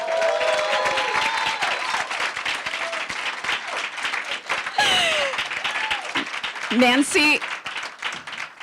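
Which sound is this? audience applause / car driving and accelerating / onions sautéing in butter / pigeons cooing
audience applause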